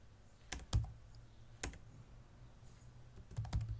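Computer keyboard clatters as code is typed, a few sparse keystrokes early, then a quicker burst of clicks near the end, quiet and close with no voices.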